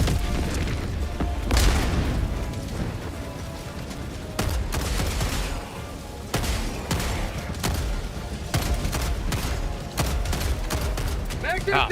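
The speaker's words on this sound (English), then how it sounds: "Orbital strike incoming." An orbital strike in the Helldivers II video game lands as heavy booming explosions and rolling gunfire-like blasts, loud and dense throughout, with a voice talking over the barrage.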